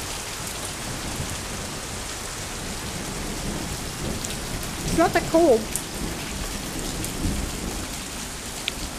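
Steady rain pours across the whole clip during a storm in Wyoming, with a low rumble of thunder, and someone speaks briefly partway through.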